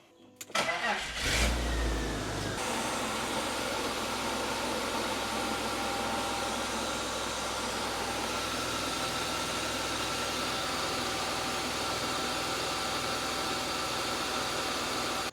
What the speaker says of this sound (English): put this back on and start the car